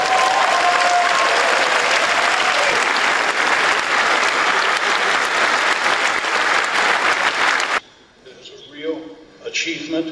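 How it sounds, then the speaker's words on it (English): A large audience in Melbourne, watching the CERN Higgs boson announcement, gives dense, sustained applause for about eight seconds before it stops suddenly and a voice begins speaking. "Is there any applause in Melbourne?"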